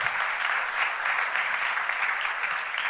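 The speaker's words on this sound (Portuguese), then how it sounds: "Quem pode dar uma salva de palmas ao Senhor?" A church congregation claps together in dense, steady applause that fills the room at a continuous even level for a few seconds.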